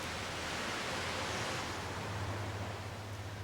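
A water treatment sand filter backwashes as clean water and air are forced up from the bottom, producing a dense, steady rushing roar with a low hum underneath.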